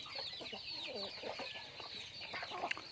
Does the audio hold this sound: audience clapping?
no